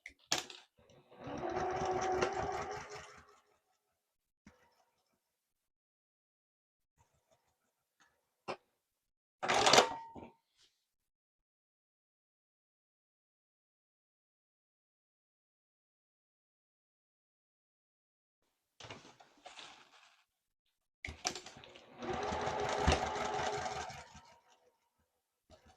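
Sewing machine stitching seam to seam on a small fabric desktop caddy sewn from squares, in two close bursts of fast mechanical whirring separated by quiet pauses and a few clicks.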